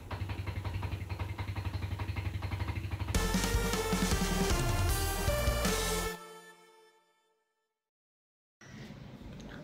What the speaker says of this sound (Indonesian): udah ganti oli masih kasar aja suara mesinnya ya.